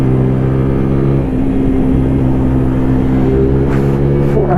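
A SINNIS Apache SMR supermoto motorcycle ridden along a twisty road, its engine a steady close drone with a rising and falling pitch through the bends, no talking.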